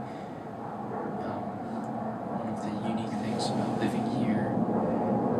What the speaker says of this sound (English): Apologies for the jet noise if there's any.